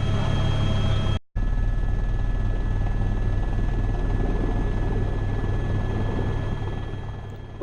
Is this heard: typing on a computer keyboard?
no